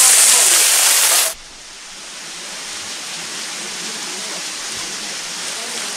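Waterfall at the Beşpınar picnic area in Kavaklıdere, Menteşe, a steady broadband rush of falling water heard at a distance, continuous and even after a brief loud hiss at the start.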